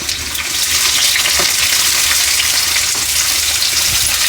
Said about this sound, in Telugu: ఉల్లిగడ్డ వేస్తున్నానండి మంచిగా నూనెలా ఉల్లిగడ్డ వేగాలి